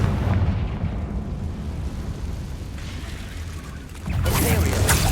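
Confringo fire blast spell cast in Hogwarts Legacy, a dense rumbling burst that roars steadily for a few seconds, dips slightly, then swells loud again near the end, close and full-bodied.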